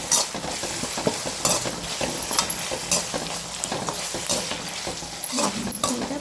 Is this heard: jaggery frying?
yes